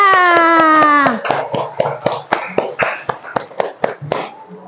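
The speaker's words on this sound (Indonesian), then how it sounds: "Tepuk tangan untuk kita semua." In a classroom a group claps in a quick, patterned rhythm of about a dozen sharp, close bursts, just after a short sung or chanted vocal phrase at the start.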